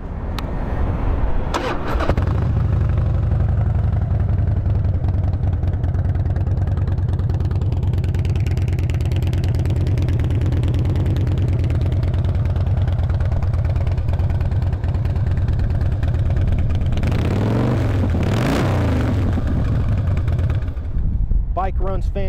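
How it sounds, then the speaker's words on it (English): A 2006 Harley-Davidson Softail Night Train FXSTBI motorcycle idles with a loud, steady, close engine rumble, then revs briefly near the end, while someone talks over it. "Motor's quiet. Starts right up, goes through the gears good."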